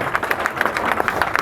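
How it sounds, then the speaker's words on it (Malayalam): An audience at a motivational seminar claps for a woman called up front, giving quick, fairly even hand claps that blend into a moderate, close patter with no talk over them. "എല്ലാവരും കൂടി ഒരു നല്ലൊരു കൈയടി കൊടുക്കും മേഡത്തിന്"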